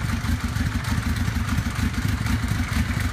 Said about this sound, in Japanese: エンジンは、セル一発で始動、アイドリングも、しております